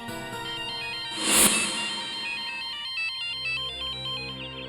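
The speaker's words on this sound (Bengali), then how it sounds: "এটা তো ম্যামের রিংটোন।" A mobile phone ringtone plays a tonal electronic melody of repeating synthesized notes, ringing steadily and fairly loud in a quiet indoor space, with a brief noisy burst near the start.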